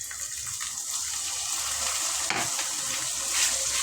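Chopped tomatoes and onions sizzle steadily in hot oil in a pan for a taro kara kuzhambu, a continuous close frying hiss with a brief stir in the middle.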